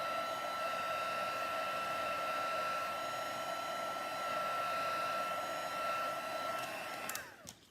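A heat gun blows hot air over card sprayed with isopropyl alcohol, a loud steady whirring hum with a high whine that runs unbroken for several seconds before cutting off.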